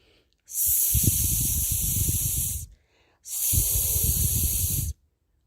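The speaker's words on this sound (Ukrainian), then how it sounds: "Насос від гордості свістів." An air pump hisses as a sound effect in a children's story about pumping up tyres: two long, loud, steady hissing bursts separated by a short silence.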